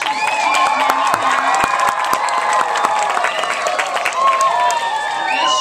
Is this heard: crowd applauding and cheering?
yes